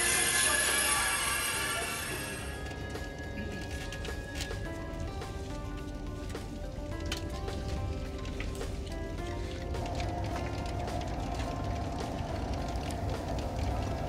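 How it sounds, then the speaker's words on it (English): A French high-speed passenger train running at about 300 km/h, a steady loud rumble and rush of wheels and air with a higher whine at the start, continuous throughout. "This train is run by a French company, so it's a little different to the ones so far."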